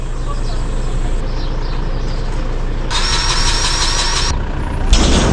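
A ute engine idles and drives around a farmyard, a steady low rumble running throughout at moderate loudness, with a brighter hissing burst midway and a louder knock near the end; talk is present alongside it.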